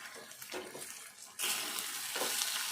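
Taro root curry being stirred in a pan, with a low scraping swish that swells into a louder, steady wet frying hiss partway through, close and with no voices.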